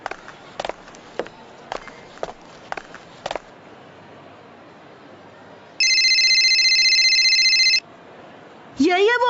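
In a Hindi cartoon, a mobile phone rings with a bright, steady electronic tone lasting about two seconds, preceded by scattered footsteps and followed by a rising cartoon sound effect.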